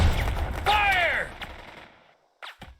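Gunfire in the war game Burden of Command, a burst of sharp shots mixed with a whizzing, descending whistle, then a short quiet gap and a few fainter cracks.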